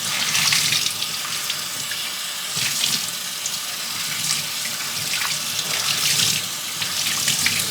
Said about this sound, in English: I'll rinse these out some more